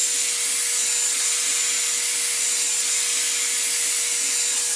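Dyson Airwrap hair styler blowing steadily while styling thick curly hair, a continuous close airy whoosh with a faint motor whine throughout and no speech.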